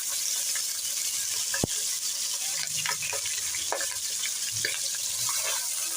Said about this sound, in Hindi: अब इसके अंदर प्याज ऐड करेंगे।